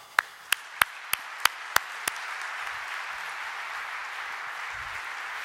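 An audience at a developer conference applauds to welcome Tim O'Reilly, a few crisp near claps at the start swelling into steady, even crowd clapping that fills the room without any talk.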